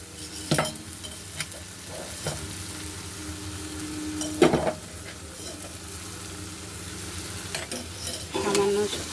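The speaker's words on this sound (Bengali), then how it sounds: "সামান্য একটু মিষ্টি দিয়ে আবারও নাড়াচাড়া দিয়ে দিলাম" Bottle gourd peel and prawn curry stirred in a pan, a low steady sizzle with occasional sharp scrapes and clinks of a spatula against the metal, spaced a few seconds apart.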